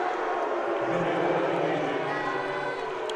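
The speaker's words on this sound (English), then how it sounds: "you have a lot of crowd noise here" Crowd noise in a gym during a girls' varsity basketball state championship game, a dense, steady roar of many voices filling the whole stretch, with a commentator talking over it.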